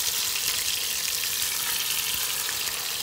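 Veal shanks searing in smoking hot oil for osso buco, a steady, loud, dense sizzle with no break, alone with no talk.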